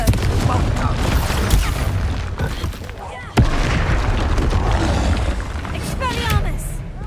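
Fire-blast spell impacts in the Hogwarts Legacy video game, loud booming explosions layered under a player's shouted spell names, with a sharp new blast partway through.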